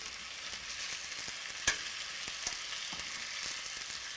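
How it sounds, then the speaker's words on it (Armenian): Food in a pan sizzles and crackles steadily as Armenian cognac is set alight to flambé it, with one sharp pop partway through and soft stirring and clicks underneath. "այրելու ենք մեր հայկական կոնյակը"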